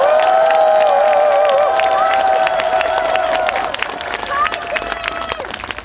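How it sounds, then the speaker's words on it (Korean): A rally crowd against the impeachment in Yeouido, Seoul, claps and cheers loudly, with whoops and shouts ringing out over sustained applause, while a whistle-like tone runs through the first half. "박수를 한번 쳐주십시오."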